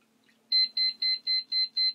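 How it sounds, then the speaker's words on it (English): A liquid level indicator sounds as a cup fills with water: six short, evenly spaced high beeps, loud and close, following a near-silent start. "So you would put some water in, wait for the beeps,"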